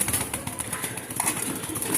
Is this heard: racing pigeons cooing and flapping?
yes